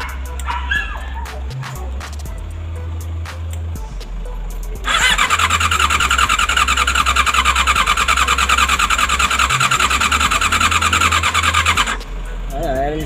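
A Yamaha R6 motorcycle with a blow-by fault idles, then its engine revs into a loud, sustained, buzzing roar for several seconds before settling back, with speech and scattered clicks around it.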